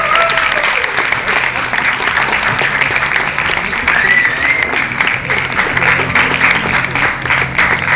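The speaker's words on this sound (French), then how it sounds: "Veuillez applaudir tous les candidats," At a stage show in Montpellier, an audience applauds the contestants with loud, continuous, dense clapping that holds steady throughout, and voices can be heard under it.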